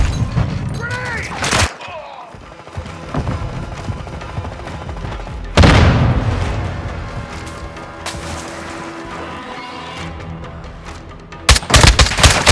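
Gunfire and a grenade explosion in Call of Duty: Modern Warfare II: bursts of close automatic fire, then a heavy booming blast with a long rumbling tail, more shots crackling near the end, with voices calling out over the combat.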